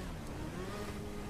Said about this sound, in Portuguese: Peguei uma moto muito louca aqui.